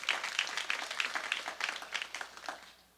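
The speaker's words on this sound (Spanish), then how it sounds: "¿Quiere dar un aplauso fuerte al Señor en esta tarde?" A church congregation bursts into applause, a fairly distant wash of many hands clapping in uneven bursts that fades toward the end.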